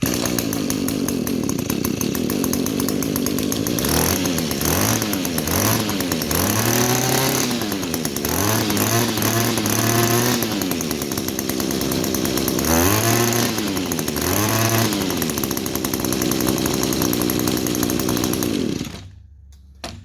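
An Echo string trimmer engine fitted with a Twist-A-Throttle system runs loud and close, repeatedly revving up and dropping back to idle before cutting off abruptly near the end.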